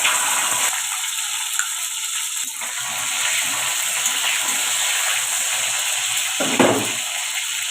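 Tomatoes go into hot oil in a pan while making vegetarian khichdi, giving a steady, loud hiss of sizzling that holds throughout, with a brief louder splutter near the end.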